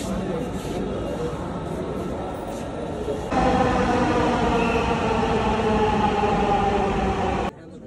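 A Dhaka metro rail train rumbles at a station with a broad, loud mechanical roar and a steady tonal hum that swells partway through, then cuts off abruptly near the end.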